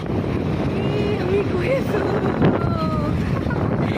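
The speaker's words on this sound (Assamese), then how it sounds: "কি ধুনীয়া বতাহ লাগিছে" Steady wind rushes past while travelling outdoors, a broad, continuous roar buffeting the microphone close up, with a voice talking over it throughout.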